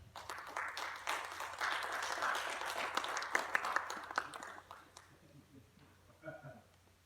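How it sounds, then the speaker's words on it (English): Audience applause following a welcoming speech at a celebration event, sustained clapping that builds for several seconds, then thins out and fades near the end, with faint voices underneath. "let's give another round of applause and wish His Excellency Grazie"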